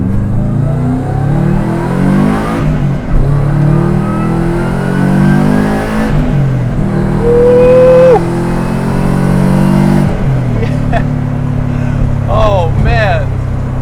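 A 2001 Subaru Impreza L coupe with a WRX engine swap and Tomei Extreme exhaust revs repeatedly, rising and falling in pitch with a throaty exhaust note, loud and close, in several bursts over about fourteen seconds.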